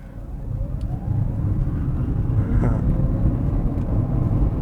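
An electric Renault Kwid pulls away from a standstill, a faint motor whine rising in pitch over steady road and cabin rumble that grows slightly louder as the car gains speed.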